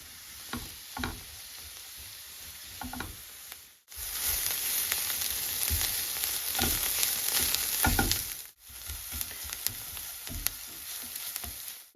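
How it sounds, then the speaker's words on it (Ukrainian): Carrots and onions sizzle and fry steadily in a hot pan, a close crackling hiss that swells louder in the middle, with faint stirring scrapes. "Викладаємо в сковорідку моркву та цибулю. Підсмажуємо трішечки до золотавого кольору."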